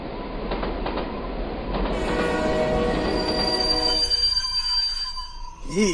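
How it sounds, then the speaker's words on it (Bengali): A cartoon sound effect of a train rumbling along, its wheels squealing and a horn sounding as it brakes to a stop mid-journey. The effect is loud and continuous, ending in a rising whistle-like squeal. "ট্রেনটা হঠাৎ মাঝ রাস্তায় দাঁড়িয়ে গেল কেন রে"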